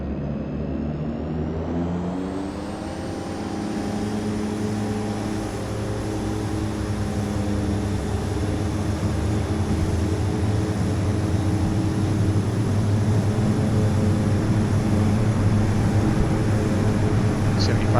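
Airliner engines in a flight simulator game spool up for takeoff, a steady rising whine and droning rumble that holds loud and constant, with a voice talking over it at times.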